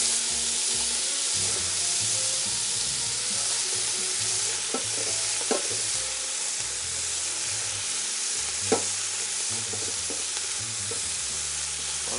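Chopped bacon and cheap vegetables (rutabaga, celery, carrots, white cabbage) frying and being stirred in a pot, a steady broad sizzle with occasional scraping clinks from the utensil, continuous and close with no talk.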